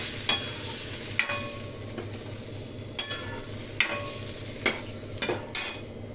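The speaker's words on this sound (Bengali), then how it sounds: "জল দিয়ে দেবো এর মধ্যে, অল্পই দিলাম" Spices frying in a pan after a splash of water, a soft constant sizzle broken by about eight sharp scrapes and clinks of a spoon stirring, close up with no talking.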